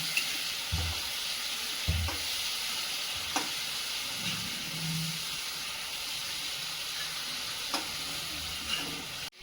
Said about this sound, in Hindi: इसे लो फ्लेम पर 2 मिनट भूनेंगे